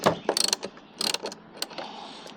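A socket wrench ratchets while loosening bolts on a Niagara backpack sprayer, close quick bursts of clicking pawl teeth in short uneven runs with small knocks in between, no talking.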